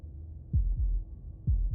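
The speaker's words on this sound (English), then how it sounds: "A heartbeat, followed by another" Deep, muffled heartbeat thumps from the video game Slay the Princess, three low throbbing beats in a slow rhythm over a faint hum, close and alone.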